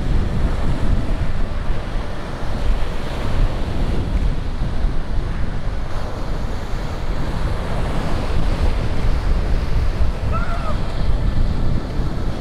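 Waves wash onto a beach at Churchill, Manitoba, a continuous loud surf rumble mixed with heavy wind buffeting the microphone, with no talking.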